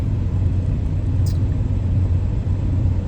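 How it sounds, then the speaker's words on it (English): Heavy truck engines idle close by in a truck yard on a hot day, a loud, steady low rumble with no break and no voices. "Trucks next to me, they loud."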